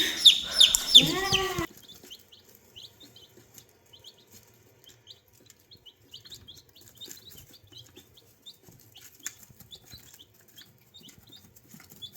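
Chickens give a loud call briefly at the start, followed by faint, scattered clucks and chirps over a quiet background.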